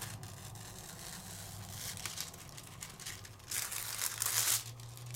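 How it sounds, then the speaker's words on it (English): Metallic foil peeled away from an embossed card, soft crinkling and crackling up close that swells into a louder tearing rustle near the end, heard alone in a quiet room. "You're going to peel that foil off."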